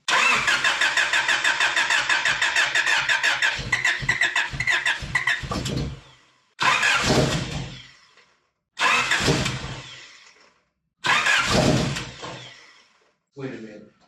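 A rebuilt Honda Prelude engine cranking with rapid rhythmic starter chugging that swells into a running burst, followed by several separate cranking attempts, each several seconds long with short silent gaps between, loud and close.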